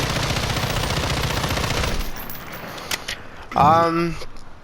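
M13 rifle fired in Modern Warfare 2019, a dense sustained burst of automatic gunfire lasting about two seconds, followed by lighter mechanical clicks and a brief rattling handling sound.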